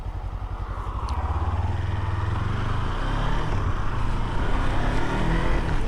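Big Kawasaki Vaquero motorcycle cruising on a road at night, its low steady engine rumble droning continuously with a slight rise in revs toward the end and faint wind noise over it.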